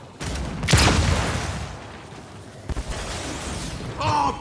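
Gunfire and explosive bursts ring out in the Gears 5 video game during a horde match, a loud sharp blast followed by rumbling, scattered shots and a brief game voice near the end.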